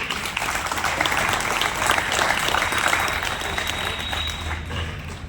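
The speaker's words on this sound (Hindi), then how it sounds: "एक बार पुनः जोरदार तालियों से स्वागत करिए।" A crowd at an Ayurveda event gives loud applause to welcome the guests, a sustained wash of many hands clapping together at steady volume with no break.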